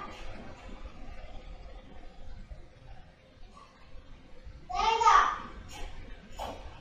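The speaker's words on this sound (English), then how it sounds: "It's a noisy toddler kind of day." A noisy toddler babbling and calling out in the room during a beginner yoga class, faint chatter throughout with one louder squeal near the end.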